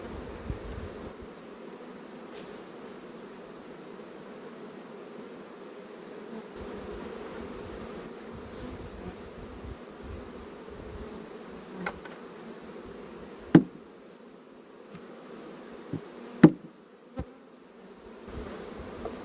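A low, steady buzz of honey bees hovers around a hive for the whole stretch, with a few sharp knocks and clicks of beekeeping equipment standing out near the end.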